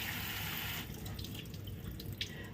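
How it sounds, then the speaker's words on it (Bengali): Cold tap water splashing and running into a pot of just-cooked cauliflower, a steady wash of pouring for the first second that settles into quieter trickling and drips, close by with no talking. "এই দেখো একদম ঠান্ডা জলটা দিয়ে দিলাম"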